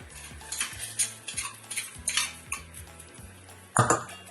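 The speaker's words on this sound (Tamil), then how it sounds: "இப்போ இதை இந்த பவுல்ல போட்டுக்கிறேன்." Food goes into a bowl with a run of metallic spoon scrapes and clinks against the dish, close and fairly loud, ending in a sharper clatter, with faint music underneath.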